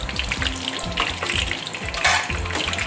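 Chicken schnitzel fries in oil in a pan, browning on its second side: a close, steady bubbling sizzle with soft clicks and scrapes, no voices.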